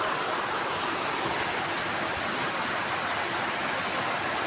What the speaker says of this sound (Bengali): খুব কষ্ট মনের ভিতরে যে এই বৃষ্টি যাইতেছে একটু ভিজতে পারতেছি না